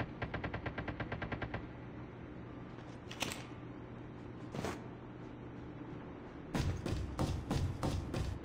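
Rapid automatic gunfire from the shooter game Call of Duty Mobile comes in fast rhythmic bursts, with a couple of single sharp shots between them and another dense burst at the end over low game ambience.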